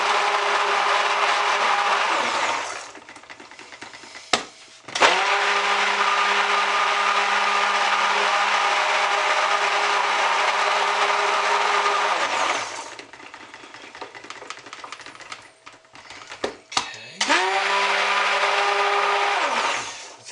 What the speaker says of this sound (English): let me get that under the head of the stick blender